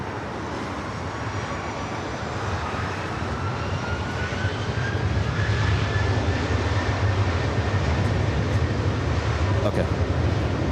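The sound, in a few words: Boeing 777-300ER jet airliner at LAX airport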